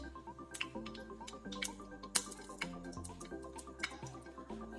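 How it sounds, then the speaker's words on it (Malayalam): Coconut oil goes into a hot pan, heard as quiet liquid trickles and drips with a few soft clinks over a tonal background. "ഇനി അതിലേക്ക് 1 ടേബിൾ സ്പൂൺ ഓയിൽ വെച്ച് കൊടുക്കാം."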